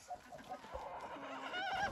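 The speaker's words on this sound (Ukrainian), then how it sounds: "хто ти там закукурікав" A crossbred mini meat rooster crows faintly in the distance near the end, over a low murmur of farmyard background noise.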